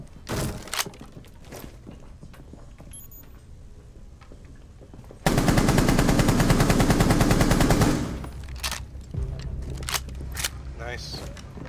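Automatic weapon fire in Rainbow Six Siege during a skyscraper team deathmatch hostage round, a loud sustained burst of rapid shots lasting a few seconds, set among scattered thuds and clicks of other game sounds.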